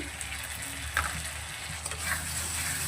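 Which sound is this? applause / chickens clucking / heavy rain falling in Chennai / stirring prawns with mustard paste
stirring prawns with mustard paste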